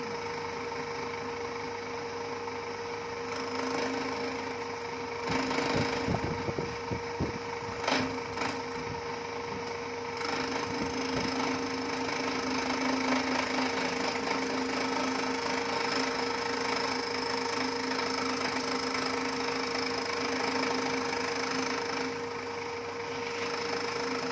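A milling machine cuts a motorcycle cylinder head, a Honda Wave 100 head being bored out for a 125 setup, with a steady machine hum, a bright high whine and a burst of rattling chatter early on.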